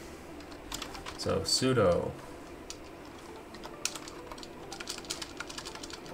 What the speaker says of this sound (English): I'm going to start typing in these commands.